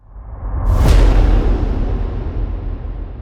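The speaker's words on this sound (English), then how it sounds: "So I layered together 2 more impact presets here" A single deep cinematic trailer impact, built from two layered presets in UVI Orbit, hits with a booming sub-bass thump and a bright crack, then rumbles and slowly decays alone.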